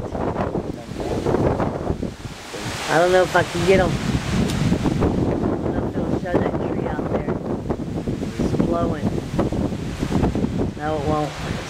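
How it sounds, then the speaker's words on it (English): Strong Hurricane Ike wind gusts buffet the microphone outdoors near a bush, a continuous loud rushing roar with surges, while people talk intermittently over it. "you can hear the wind blowing"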